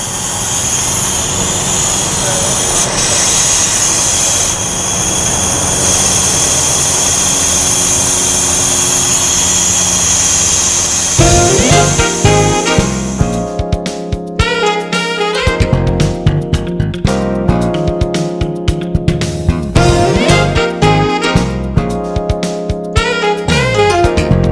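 A compressed air line on a tire sealing setup is vented through its exhaust valve: a loud, steady rushing hiss lasts about eleven seconds, then turns into a harsher, rattling mechanical roar.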